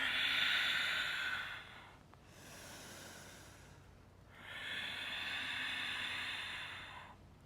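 Two long, heavy breaths during a demanding yoga practice, a drawn-out airy exhale followed after a brief pause by another deep, hissing breath, close and alone with no talking.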